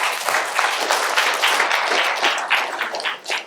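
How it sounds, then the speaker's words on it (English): Meeting audience breaking into applause, a bright, crowded wash of clapping from many people that stays strong and close, then thins slightly at the end. "Round of applause."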